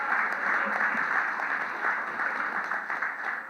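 Audience at a university talk on content production applauding, a moderate steady patter of many hands clapping, somewhat distant and even throughout.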